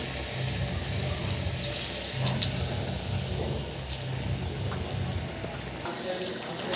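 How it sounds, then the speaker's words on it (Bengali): Pumpkin flower fritters in batter sizzle steadily in hot oil, a continuous low crackle with faint clinks, close and moderately loud, with no talking. "তারপরে এই যে আস্তে করে তেলে ছেড়ে দিচ্ছি।"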